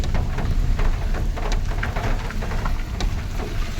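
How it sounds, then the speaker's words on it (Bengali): Steady heavy rain pours near the Dawki river in a hilly area, a dense continuous hiss with scattered drop impacts and no voices. "এখানে পানি হচ্ছে"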